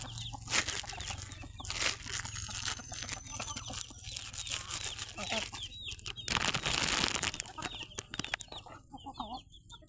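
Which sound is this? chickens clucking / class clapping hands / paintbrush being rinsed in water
chickens clucking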